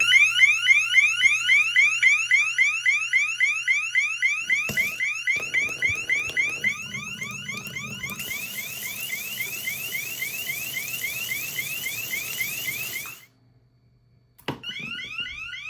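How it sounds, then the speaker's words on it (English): A SwitchBot water leak sensor's piercing electronic alarm beeps rapidly and steadily for a long stretch, then cuts off briefly before sounding again. "here is some video of me testing it with a drip, or rather a flood"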